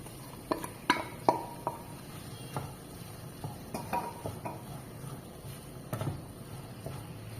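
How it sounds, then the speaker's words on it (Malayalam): Two large chopped onions are sautéed with ginger in a pan for chicken curry, with a spatula scraping and clattering in irregular bursts over a faint sizzle close by. "ഇനി അതിലേക്ക് രണ്ട് വലിയ സവാള അരിഞ്ഞത് ഇട്ട് വഴറ്റുക"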